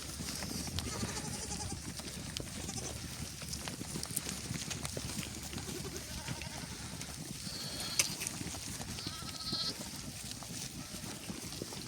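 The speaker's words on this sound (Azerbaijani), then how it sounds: "Balalar da bunlar da deyil, super quzular." A flock of around 260 pregnant ewes and their lambs bleats over steady outdoor noise, with scattered calls fading in and out and no talk.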